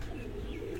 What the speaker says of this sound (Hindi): मेन कबूतर